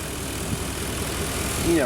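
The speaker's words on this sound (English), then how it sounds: "I just want to see if this engine can idle" A classic Chevy V8 idles at about 600 RPM with the idle air control disconnected, giving a steady low rumble that holds even and close throughout, with a faint rise near the end.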